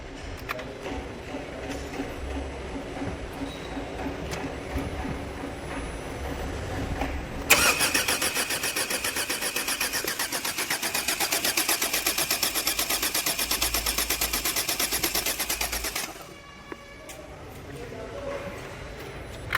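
A 2023 Hyundai Verna petrol BS6 with an overheating and knocking problem cranks and starts, then runs with a loud, steady engine sound for about eight seconds before cutting off, with background noise before and after.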